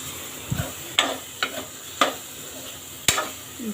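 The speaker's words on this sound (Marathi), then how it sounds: "थोडी कोथिंबीर टाकते फोडणीला." Coriander dropped into a hot oil tempering for drumstick curry, with a low continuous sizzle under a series of crisp spoon taps and scrapes against the pan at a slow, uneven pace.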